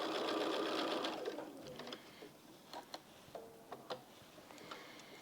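A sewing machine stitches across quilt star sashing, a dense whirring burst at first that slows into separate ticking, clicking mechanical taps, close and fairly quiet.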